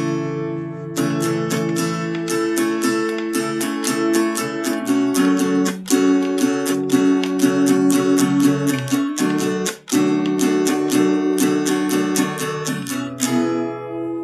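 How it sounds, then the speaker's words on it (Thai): Acoustic guitar played unplugged with no pickup, a run of bright strummed chords with steady rhythm and ringing sustain, close and clear with no talking. "นี่เสียงกีตาร์ธรรมดานะฮะ"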